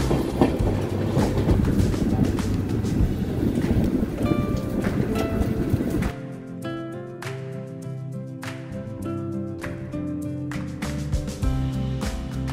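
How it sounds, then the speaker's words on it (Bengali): A passenger train runs on rails near Jwalapur on the way to Haridwar Junction in monsoon rain, with a loud rumbling roll and clickety-clack that shifts to a quieter, more tonal rattling midway. "আমাদের ট্রেন জোয়ালাপুর পার হচ্ছে।"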